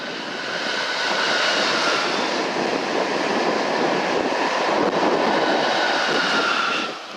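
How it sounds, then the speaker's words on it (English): An Intercity Direct high-speed train passes on a high-speed line, a loud, steady broadband rushing roar that holds for several seconds and eases off at the end. "it's time to see one more train before we end this video."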